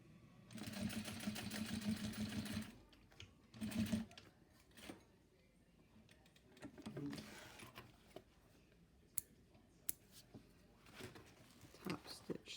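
A sewing machine top stitches a bag gusset panel in a fast whirring run of a few seconds and a shorter burst, followed by quiet handling clicks and soft talking in a workshop.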